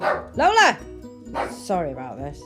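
Pet dogs bark and yip sharply up close in a home during an acrylic nail session, bursts of rising and falling yelps with a whimper, while a woman calls out and talks over them.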